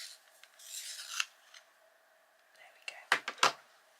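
A scarlet colouring pencil turned in a small sharpener, giving a few soft, raspy scraping bursts followed by light clicks and taps, close and fairly quiet.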